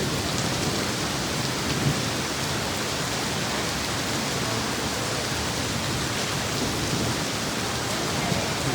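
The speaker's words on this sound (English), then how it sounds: "It's thundering and lightning also" Heavy rain pours steadily in Mazamitla during an evening storm, making a dense, even hiss of drops on roofs and ground for the whole stretch, with no distinct thunderclap standing out.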